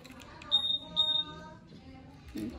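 A new motorbike's alarm gives two short, high electronic beeps in quick succession, fairly quiet, with soft background noise and a voice murmuring afterward.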